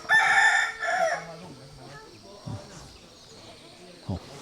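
A rooster crows loudly and close by at a duck and chicken coop in a remote mountain village, two long calls followed by quiet farmyard background with a few short thumps.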